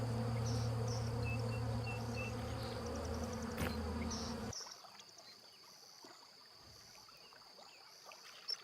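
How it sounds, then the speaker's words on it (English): Bees buzzing in the MMO video game Adrullan Online: a steady insect drone with layered hum and faint chirps, which cuts off partway to leave a quieter, thinner ambient bed with a soft click near the end. "We can get some bees, folks."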